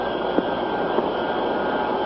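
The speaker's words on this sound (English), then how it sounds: "the new Boeing lined up for landing on the main runway at Seattle's Boeing Field" The Boeing 367-80 jet airplane comes in to land on the main runway at Boeing Field in Seattle, giving off a steady, even engine roar that holds for the whole short stretch without talk.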